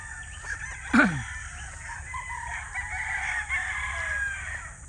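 A young stag rooster on a farm lets out a short crow near the one-second mark over a steady farmyard background of other birds and faint clucking.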